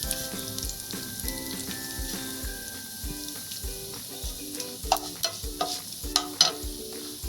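Cumin seeds fry in oil in a pan on a stove, a soft, continuous sizzle punctuated by regular stirring clicks and scrapes, with tonal background music running underneath.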